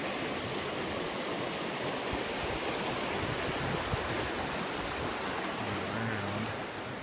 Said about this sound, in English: Standing right in the middle of the creek.